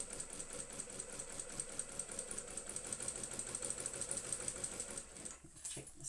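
A sewing machine stitches a handbag zipper placket with a fast, even mechanical clatter, steady and close, and stops near the end.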